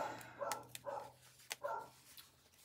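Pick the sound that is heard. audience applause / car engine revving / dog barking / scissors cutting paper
dog barking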